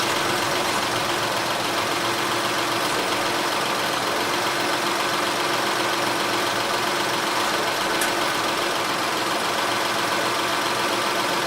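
A Honda Odyssey engine idles steadily after a blown-out spark plug repair, a dense, even mechanical drone with a faint tick, continuous and close, with no voices.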